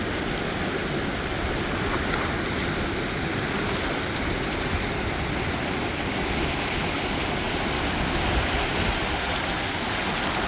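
Fast-flowing river water rushes in a steady, loud, unbroken roar close by, at Seven Mile Hole in June, with no talk.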